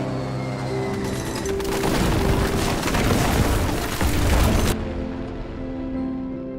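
Heavy, sustained bursts of gunfire with deep booming rumbles, loud and continuous for several seconds before tapering off into a lower drone.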